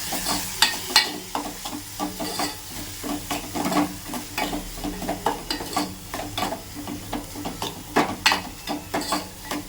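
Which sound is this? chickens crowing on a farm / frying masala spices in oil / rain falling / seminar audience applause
frying masala spices in oil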